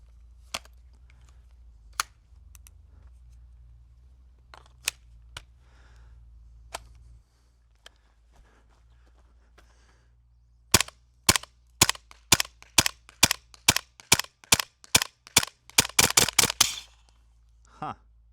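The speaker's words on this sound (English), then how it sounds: "Not the most fast cycling airsoft gun I've ever seen, especially for a submachine gun." Airsoft submachine gun replica modeled on a Battlefield 6 weapon, a few sparse single shots followed by a rapid string of sharp close cracks in a slow automatic burst.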